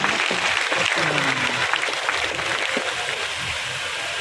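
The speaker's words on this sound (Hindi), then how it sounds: "ऐसे जनार्दन मिश्रा जी के लिए जरा तालियां बजाकर स्वागत करें।" A crowd at a political workers' gathering claps in welcome for an MP, a sustained clatter of hands with a voice heard over the start that trails off as the clapping continues.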